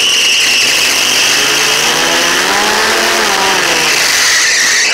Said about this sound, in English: It's got a little exhaust leak.